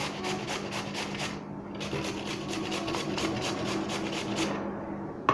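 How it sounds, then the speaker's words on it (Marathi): Raw potato and onion being finely grated by hand, a quiet rhythmic rasping stroke repeated steadily with one short pause. "असा हा कांदा बटाटा असा किसून घ्यायचा आहे चांगला बघू शकता तुम्ही बारीक असं किसून घ्यायचं आहे"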